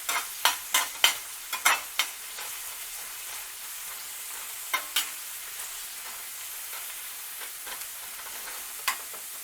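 Asparagus frying in oil in a pan, a steady soft sizzle running throughout with a scatter of sharp crackles and pops, busiest in the first couple of seconds and then sparse, with no talking.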